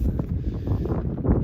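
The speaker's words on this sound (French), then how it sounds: "il y a un léger vent du nord, donc qui balaye tous les nuages" A light north wind blows across open Burgundy countryside on a cold, clear February day, a steady low rumble of buffeting against the microphone that fills the whole moment with no voices.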